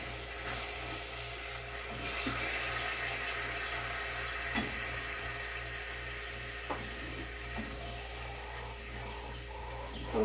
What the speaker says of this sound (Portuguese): Aqui eu vou colocar a água